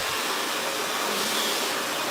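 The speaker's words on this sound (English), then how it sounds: "So we are using the blow dryer to now stretch her hair out lightly" A hair dryer blows steadily and loudly, a constant rushing whir of air with no pauses.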